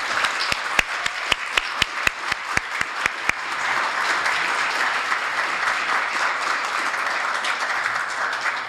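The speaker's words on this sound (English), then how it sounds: "Once again, a huge round of applause to all the 3 changemakers." At a talks event, one nearby person claps in a sharp, evenly spaced rhythm while a broader audience applauds the three changemakers on stage. The steady crowd clapping carries on after the rhythmic claps stop.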